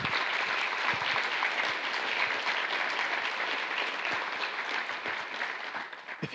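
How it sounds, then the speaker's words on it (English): An awards ceremony crowd gives a round of applause for a second-place winner, a dense, steady wash of clapping from many hands that tapers slightly toward the end. "Let's give her a round of applause."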